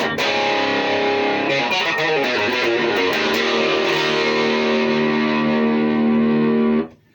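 Electric guitar driven through a Tube Screamer and a distortion pedal together, heavy saturated chords strummed and left to sustain thickly, loud and close, then cut off abruptly near the end.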